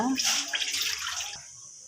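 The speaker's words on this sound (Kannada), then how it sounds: "ಸ್ವಲ್ಪ ಸ್ವಲ್ಪ ತಣ್ಣೀರನ್ನು ಒಂದು ಹಾಕ್ತಾ ಕಲ್ತ್ಕೊಳ್ಬೇಕು" Cold water is poured into jowar flour dough in a kitchen, a brief close splashing trickle that fades out within two seconds.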